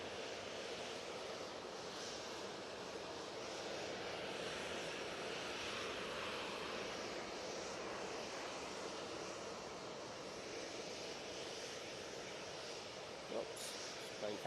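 A plane departing Manchester Airport makes a broad, steady roar of jet engines that holds at an even level throughout, distant and fairly faint, with a light outdoor hiss.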